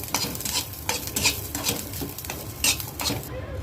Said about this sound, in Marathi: लसण आणि अद्रक आहे ह्याच्यामध्ये, हे पण थोडंसं परतून घेते.